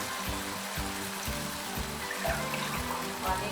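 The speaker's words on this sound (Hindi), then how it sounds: "पानी नाप के डालते हैं" Measured water poured into a pot of frying pulao ingredients, a gushing, bubbling splash over a lingering sizzle, with pulsing surges roughly every half second, close up.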